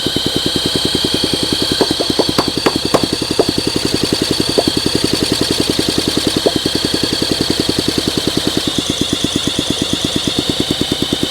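A Honda SL125 motorcycle engine with heavy blow-by runs close and loud, idling in a rapid, even putter with a few sharper irregular pops early on, steady throughout.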